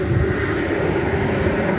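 American Airlines Boeing 787-9 Dreamliner arriving from Madrid on approach to land at DFW, a brief steady engine roar heard alone and fairly loud.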